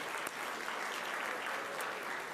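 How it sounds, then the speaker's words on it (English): An audience at a school board business meeting claps for a 10th grade student honoured for a science fair placing, an even, continuous wash of applause heard from a moderate distance. "let's clap for each of them."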